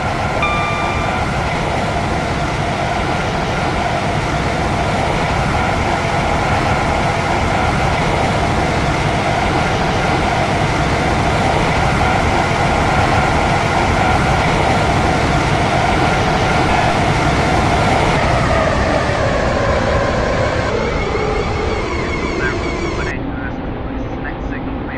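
A train on the Stepford County Railway route in Roblox hums and rumbles steadily as it runs toward a station, then its drone lowers and fades as it slows near the end.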